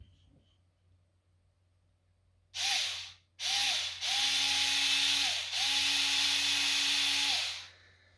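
A small drill with a 2 mm bit starts in short bursts, then whirs in two long, steady runs with a buzzing hum, close and fairly loud, ending abruptly after each pass.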